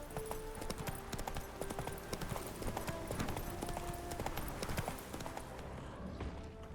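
Steady rhythmic hoofbeats of a horse galloping in The Witcher video game, with game music layered over the hooves.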